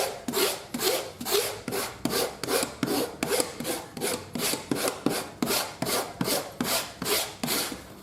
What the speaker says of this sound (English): So let me just scratch this up.